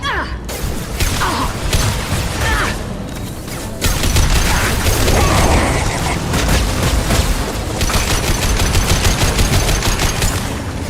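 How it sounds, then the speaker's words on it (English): Heavy gunfire in a Mass Effect 2 battle aboard the Collector ship: sustained, loud automatic shots and booming impacts that run continuously with brief lulls, dense game combat sounds throughout. "Taking heavy fire."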